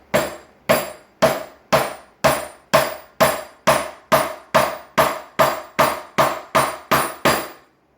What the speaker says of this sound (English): Now I'll take this on a piece of hardwood, take the mallet, and just drive it home.